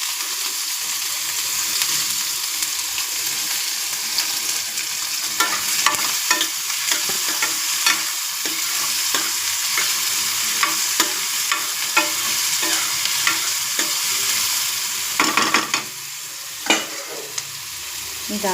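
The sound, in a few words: curry leaves frying in pan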